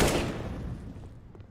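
Gunfire in a Counter-Strike esports match: a sharp shot at the start with a decaying echoing tail and faint clattering afterward.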